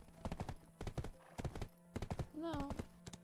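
Hooves of a horse in the Black Desert video game clop in quick clustered beats, loud and close, broken by a short whinny near the end.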